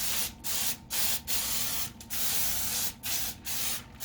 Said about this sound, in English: You need to spray both of them.